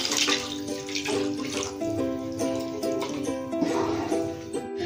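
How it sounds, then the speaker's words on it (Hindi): Water runs into a pan of frying masala while an elephant yam curry is cooked, a steady splashing, gurgling pour with a brighter tonal ring beneath it, continuous and close for several seconds. "इसलिए थोड़ा सा और पानी रख देंगे।"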